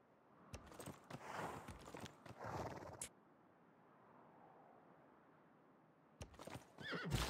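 Horsemen unit's horses in the video game Civilization 6, a burst of neighing and trotting hooves, then a quiet stretch, then another brief flurry of hoof and snort sounds; fairly close and moderately loud.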